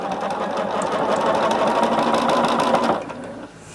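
A sewing machine runs steadily, stitching binding onto a heavy Liberty-print Sparklers quilt made from a fat quarter box, a continuous close whir that stops abruptly near the end, leaving quieter room sound.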